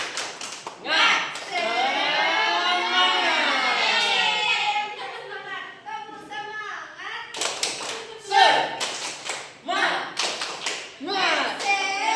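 A classroom of children claps along in a rhythmic clapping chant, led by a teacher, with sung and spoken voices over sharp broadband hand-claps in bursts that grow denser toward the end.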